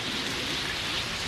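Steady dense hiss of heavy rain during a thunderstorm, an anime-style sound effect, continuous and even throughout with no distinct thunderclap and no voices.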